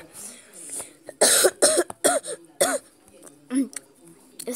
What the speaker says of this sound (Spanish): Es ataque de tos.